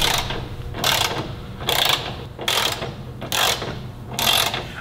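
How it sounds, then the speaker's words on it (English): A ratcheting torque wrench tightens the fasteners on truck nerf step bars, making five evenly spaced bursts of clicking, each about a quarter second long, close and crisp against quiet background noise. "go ahead and take your torque wrench and go through and torque all the fasteners"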